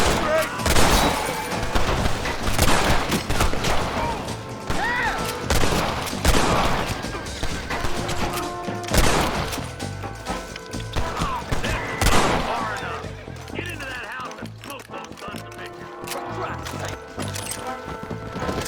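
Gunfire in the Western video game Red Dead Redemption: repeated sharp revolver and rifle shots in bursts, loud and close, mixed with game music and effects, with a voice speaking between volleys.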